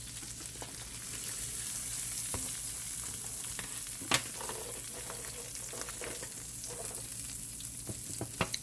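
Seasoned salmon frying in a pan with a constant soft sizzle, broken by a few sharp clicks and taps of a utensil against the pan, no talking.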